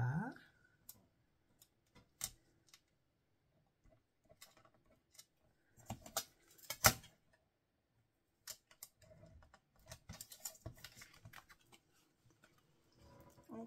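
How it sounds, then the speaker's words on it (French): Scissors cut paper along a fold line for a paper carousel craft, giving faint, sparse snips and clicks separated by quiet gaps, with a brief cluster of quicker cuts partway through. "On coupe tout ça jusqu'à la ligne de pliage qui est ici."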